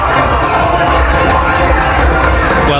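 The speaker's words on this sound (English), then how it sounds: "the crowd finally have something to cheer about" A large cricket crowd at an England versus West Indies T20 World Cup match cheers a boundary, a loud, steady roar of massed voices with scattered whoops and shouts filling the stadium throughout.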